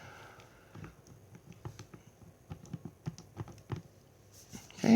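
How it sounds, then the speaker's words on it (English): Quiet, irregular series of light plastic taps like buttons pressed on a calculator, close and faint, ending with a louder knock. "So I'm just typing it in on the calculator."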